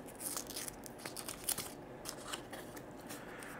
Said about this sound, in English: So let's get this tape off.